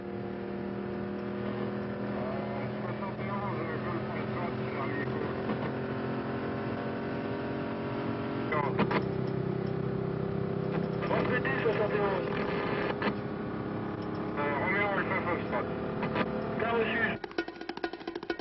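Maserati SM gendarmerie car driving at high speed, a steady engine drone and road roar with shifting pitch that runs under continuous narration.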